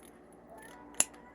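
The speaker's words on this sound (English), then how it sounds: "So I'm gonna get my scissors" Scissors cutting ribbon for a hair bow give one crisp, close snip near the end, sharp and brief against a quiet room.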